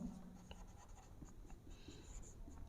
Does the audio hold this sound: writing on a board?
yes